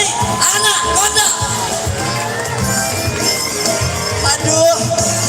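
Crowd cheering and whooping in front of an outdoor stage at a Minangkabau culinary festival on a city field, a loud continuous wash of voices with music underneath.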